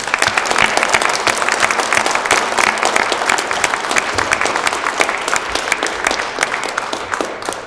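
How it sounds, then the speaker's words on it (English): Sustained applause from a public forum audience honoring a panel of speakers, dense and steady clapping across the whole stretch with no pauses, loud and close. "We give a round of applause for our panelists."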